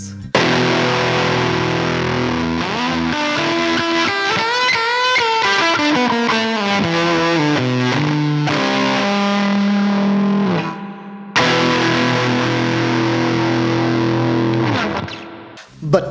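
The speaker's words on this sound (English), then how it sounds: "The fuzz face is one of the earliest drive pedals built back in the mid to late" Fuzz Face distortion pedal, an early drive pedal, on electric guitar: a loud, saturated, buzzy fuzz tone with sustained chords and bending lead notes, one short break near the end, no voices.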